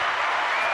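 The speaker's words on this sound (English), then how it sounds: "Let's get a round of applause." Round of applause from a live podcast audience, dense steady clapping filling the whole short moment without a break.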